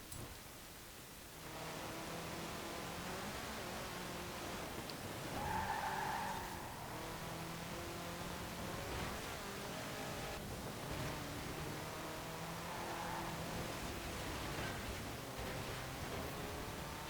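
A rally car slides on ice through a corner in Forza Horizon 4, with a steady engine roar and a broad gritty tire hiss that swells briefly midway, no talk over it.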